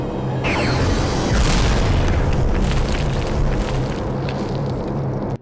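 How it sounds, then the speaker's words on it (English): A huge cannon in a video game blasts a hole through a temple door: one deep, loud boom that rolls into a long rumbling roar of debris and mechanism noise, running for several seconds before cutting off abruptly. "instead blowing a massive hole in the thing with a huge cannon"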